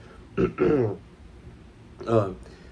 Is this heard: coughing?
yes